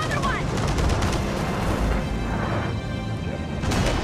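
Gunfire in the video game Gears of War 4 during a co-op campaign, dense continuous rattling shots and booms under a loud game soundscape.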